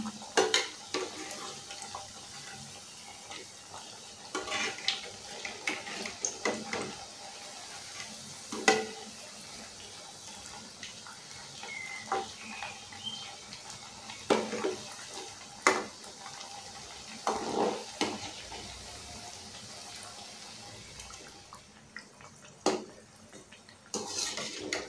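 Masal vadai frying in hot oil, a soft continuous bubbling sizzle heard up close, broken by occasional sharp clinks and scrapes of a utensil against the pan as the fritters are turned.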